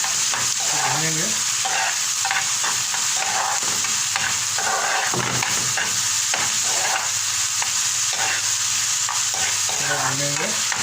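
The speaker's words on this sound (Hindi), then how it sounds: "और सबसे पहले प्याज डालेंगे। प्याज डालेंगे," Chopped onions frying in a home kitchen pan as the base for a coriander chicken dish, a steady broadband sizzle with occasional stirring scrapes, close and continuous for the whole stretch with no talking.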